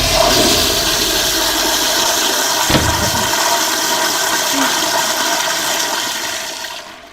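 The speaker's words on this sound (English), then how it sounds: "Automatic flush?" An automatic toilet flushes in a horror video game, a loud rushing gush of water that holds steady for several seconds before tapering away at the end, with no voices.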